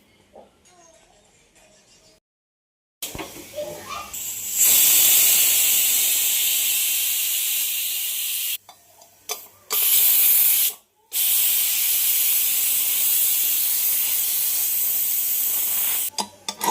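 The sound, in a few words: steam hissing out of a pressure cooker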